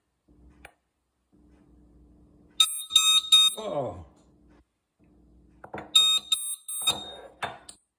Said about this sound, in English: I'm going to test the water leak alarm.